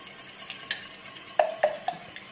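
A spoon stirs melted chocolate and egg together in a bowl for a chocolate Yule log, soft scraping broken by a few light clinks against the bowl, close and quiet, with no voices.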